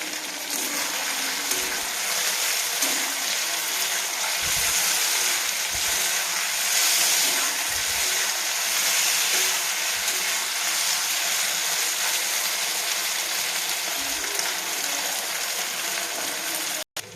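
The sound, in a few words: soybean chunks frying in oil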